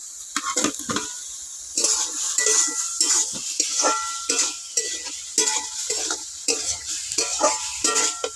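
Fried potatoes stirred into a sizzling spice masala for a vegetarian papad curry, with a spoon scraping in repeated bursts over a steady frying hiss, close and fairly loud.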